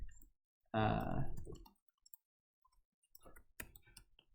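Keyboard typing during a computer science lecture: a short burst of voice, then a scattered run of faint, quick key clicks toward the end.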